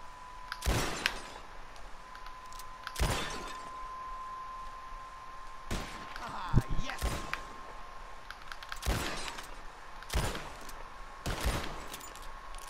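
Single loud gunshots ring out in Red Dead Redemption 2 at a bottle-shooting contest, about six sharp, widely spaced cracks over a quiet background with a steady faint tone.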